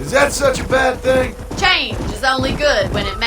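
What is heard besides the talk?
No distinct noise like a dog, phone or traffic.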